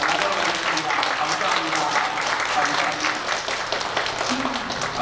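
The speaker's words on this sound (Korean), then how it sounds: "우리 축하하는 마음으로 크게 박수 한번" A church congregation applauds warmly at a Sunday worship service to congratulate a newlywed couple, with sustained dense clapping and voices murmuring underneath.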